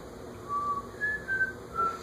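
Someone whistles a few short, clear tones with brief pauses between them, fairly quiet against a steady background hum.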